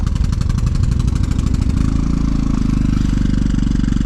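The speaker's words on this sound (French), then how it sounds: "Je démarre." Camper van engine started and idling, its exhaust exiting under the body: a loud, close, steady rapid chugging pulse that settles into an even low throb.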